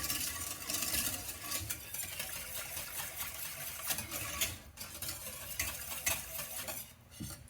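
Scraping of a utensil against the sides of a container used to cook meat for Japanese curry, lifting browned fond; steady close rubbing and scraping with light metallic clinks and a faint sizzle, no talking.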